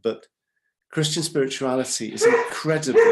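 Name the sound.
dog barking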